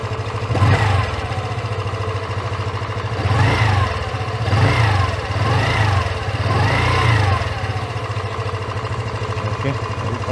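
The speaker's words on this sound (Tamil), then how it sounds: "லைட்டாக ரெவ் பண்ணி பார்க்கலாம்." A Hero Xoom 125 scooter engine idles steadily, close and loud, and is blipped lightly four times in short, rising revs that fall back to idle, with the rear wheel turning as the engine revs.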